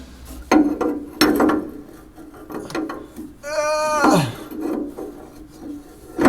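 Wrench working loose the bolts on a grain cart's hydraulic block, heard as a few close ratcheting clicks and metallic scrapes with brief rasping bursts and a short squeal, with no talk.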